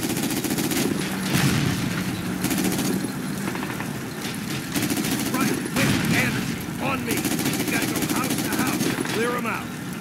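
Gunfire rattles through a World War II video game battle, with bursts of automatic fire and scattered shots over a dense, noisy background of engines and combat, steady and fairly loud throughout.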